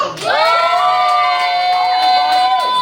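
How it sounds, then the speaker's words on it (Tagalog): A crowd cheers and shouts at a birthday party, loud sustained whoops and children's voices rising together, with a few claps under the cheering. "Palakpakan sigawan!"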